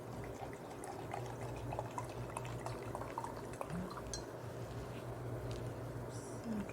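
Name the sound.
water being poured onto rice to make rice water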